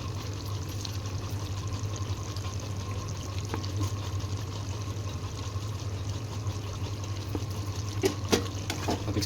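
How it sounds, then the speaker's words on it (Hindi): Lemon juice pours steadily onto cooking chicken for Assamese-style chicken curry, a continuous soft liquid trickle over low kitchen hum, with a few faint clinks near the end. "नींबू का रस दे दिया है।"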